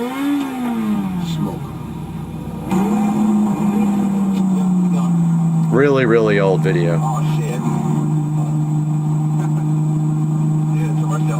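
A Lamborghini Murcielago engine drones loudly and steadily with a deep sustained tone, rising in pitch at the start, while someone talks over it.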